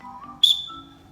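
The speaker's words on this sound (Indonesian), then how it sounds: "Karena Mister memiliki peluit, maka Mister menggunakan peluit." A fitness instructor's whistle gives one short, sharp, shrill blast during a children's exercise class, close and clear over a faint background.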